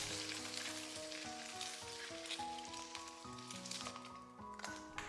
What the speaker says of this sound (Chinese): 底部煎香以后，我们给它翻面继续煎。